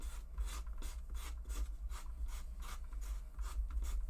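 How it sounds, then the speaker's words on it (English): A small strip of sandpaper scrubs orange and yellow colour off a mixed media junk journal page in repeated short back-and-forth rasps, close and steady, with no talking. "sandpaper"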